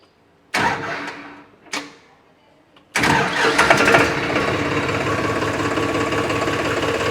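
An Arjun 605 4x4 60 hp tractor engine cranks twice in short bursts, then catches and settles into a loud, steady rumbling idle.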